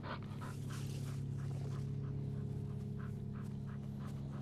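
A military working dog pants steadily, with quick rhythmic breaths close by over a low constant hum of background noise.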